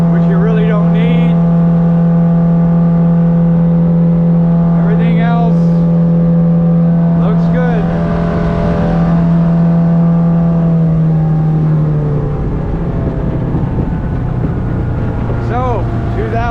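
Close-up running of a 2004 Sea Ray 180 boat engine on a water test, a steady low drone that shifts pitch midway as the throttle changes, with a voice talking over it.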